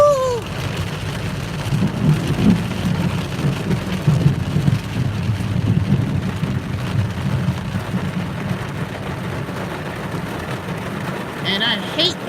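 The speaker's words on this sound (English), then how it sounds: "I hate when it rains like this" Heavy rain drumming on a moving car, a steady close roar of droplets over low engine and road rumble, continuous for the whole stretch with no talk heard.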